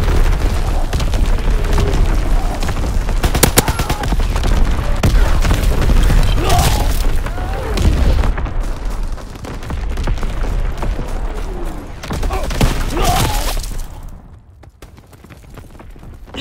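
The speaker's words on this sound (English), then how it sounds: "Incoming enemy artillery." An artillery barrage in Call of Duty WWII: heavy, loud booming explosions pound repeatedly through dense battlefield noise, then ease off toward a quieter rumble at the end.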